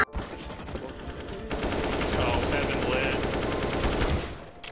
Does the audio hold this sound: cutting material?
no